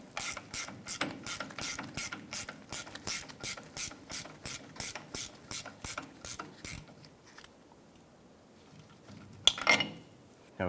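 A ratchet snugs down driveshaft flange bolts on a 2000-2006 Toyota Tundra with a steady run of evenly spaced clicking strokes that stops, followed by faint handling noise and one final short burst.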